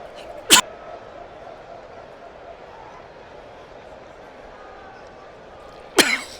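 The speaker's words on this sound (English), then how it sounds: "The cough got to me before I could hit the cough button." A sports commentator in a 1975-76 NBA broadcast, Golden State at Los Angeles, coughs twice: two sharp bursts about five seconds apart over a quiet, steady background hum.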